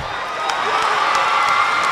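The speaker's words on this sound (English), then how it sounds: "as you can hear, the crowd now starting to get into it" Crowd cheering and shouting at a 2014 CBC Championship basketball game between the Virgin Islands and British Virgin Islands, a steady, fairly loud roar of spectators with a few sharp whoops rising from it.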